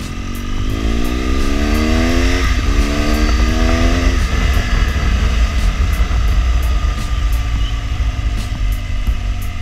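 BMW R1200GSA adventure motorcycle at a superbike festival in India: its engine is loud and close, revving with rising pitch in repeated surges, then settling into a sustained roar with a steady rumble underneath.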